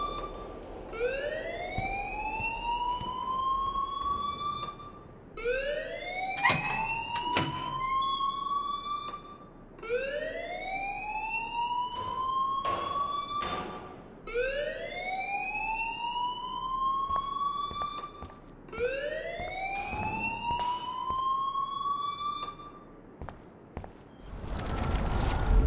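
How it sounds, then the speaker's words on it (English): An alarm in the video game Life Is Strange wails in repeated rising sweeps, about five loud cycles in a row, with sharp clicks and knocks scattered between them. "please turn off that alarm since that's your job"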